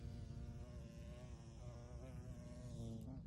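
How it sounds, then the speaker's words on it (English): Carpenter bees buzz around outdoors on a property, a steady close droning hum with wavering pitch, continuous and without talking. "they're buzzing all over my property"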